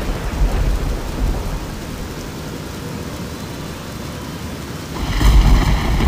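Steady rain pours through a thunderstorm in Fallout 3, with a loud rumble of thunder swelling near the end over the constant hiss of falling water.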